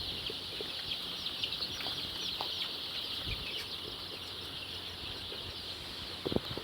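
Several thousand broiler chickens inside a warm poultry shed cluck in scattered, soft calls over a constant high-pitched mechanical hum. The sound stays fairly faint, with a louder cluck near the end.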